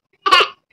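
A single short, close cough bursts out in a quiet home, lasting about a quarter second and fading quickly, with no talk around it.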